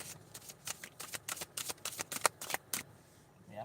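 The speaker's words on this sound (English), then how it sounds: "one more shuffle." A deck of playing cards being shuffled close by in repeated quick riffles and snaps, a dozen or so sharp bursts in an uneven rhythm in a quiet room.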